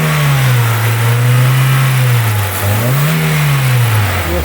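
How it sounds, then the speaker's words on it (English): A Hyundai i30 engine runs loudly up close after a cylinder head rebuild, its low hum rising and dipping as it revs gently, with a rough, slightly distorted tone from phone recording. "the sound quality from my phone makes the engine sound really bad"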